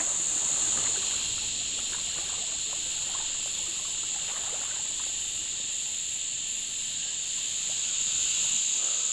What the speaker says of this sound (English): hopefully you guys can hear me over the cicadas, because they're so bloody loud at the moment